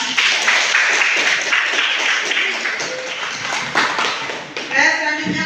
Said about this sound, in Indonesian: Oke, kita beri aplaus ya.